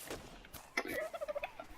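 A turkey gobbles in a dinosaur-themed video game, a quick series of rapid warbling gobble notes preceded by a few clicks and rustles, fairly quiet and alone with no speech.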